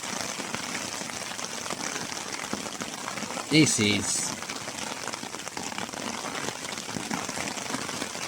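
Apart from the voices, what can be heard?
rain falling by a river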